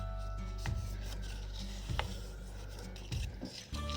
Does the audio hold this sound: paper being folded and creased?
yes